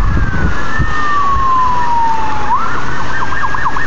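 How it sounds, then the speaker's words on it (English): Police car sirens wail loudly during a pursuit in Simi Valley, one long swooping tone sliding down and then shifting into rapid yelping cycles over steady traffic noise. "there has been like 20 billion sirens."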